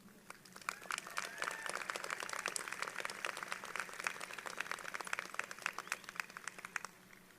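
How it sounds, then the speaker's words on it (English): Scattered clapping from a high school graduation crowd, moderately faint and sustained, with dense irregular claps continuing throughout. "let's also give a round of applause to our counselors, principals, and custodial staff"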